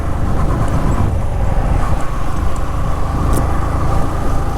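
A vehicle climbs a mountain road near Manali in third gear, its engine droning steadily and loudly throughout with constant road rumble and no speech.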